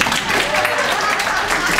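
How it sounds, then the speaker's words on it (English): An audience at a reading event claps in a dense, even wash of applause, close and fairly loud, filling the short moment without a break. "Applause, please."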